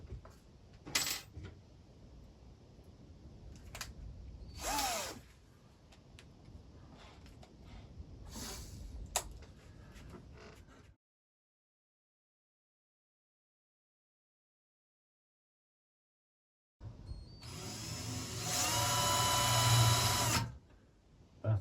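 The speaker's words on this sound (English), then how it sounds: "I'm going to start with a brand spanking new drill bit." A drill fitted with a new 3mm bit boring holes while fitting a Crayford focuser to a Newtonian telescope, heard as bursts of close, loud whirring and grinding, then silence, then a sustained loud spell of drilling.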